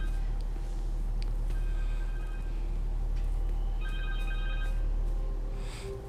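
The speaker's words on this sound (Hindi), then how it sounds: "कहीं तो फोन बज रहा है" A telephone rings somewhere within the game world of Spider-Man 2 on PS5, with repeated high electronic trill bursts that sound fairly distant under a steady droning game ambience, and no speech.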